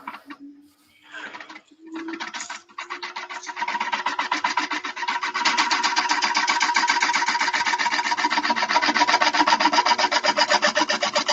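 A gouge cutting a wooden bowl on a lathe, building from hesitant starts into a loud, continuous, rapidly pulsing rasp that stays steady and close.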